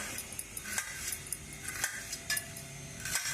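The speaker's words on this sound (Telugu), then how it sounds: "ఇట్లా అన్నీ సన్నగా కట్ చేసుకోవాలి" Knife slicing raw mango cashew pieces thinly, a run of light, quiet cutting taps and clinks spaced through the stretch, close up with no talk.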